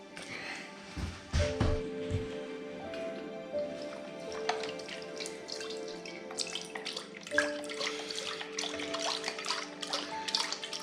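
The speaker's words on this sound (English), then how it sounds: "first thing I'm going to put in is 1 litre of beef stock" Beef stock, a litre of it, poured into a slow cooker for a beef stew, with running liquid and drips splashing into the pot, moderately loud and close, with a few clinks along the way.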